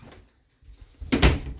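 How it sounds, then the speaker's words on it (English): A bathroom door in a 2021 Forest River Wolf Pack travel trailer swings shut with a soft scuff and then a short, firm click-thud of the latch, fairly close and quiet, with no talk over it. "Closing the door"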